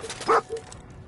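Dogmeat, the dog companion in Fallout 4, lets out a single short bark-like yip that is close and clear, with faint game ambience around it.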